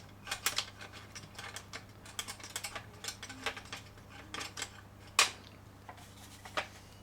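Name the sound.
Bruder toy trailer ramp mechanism moving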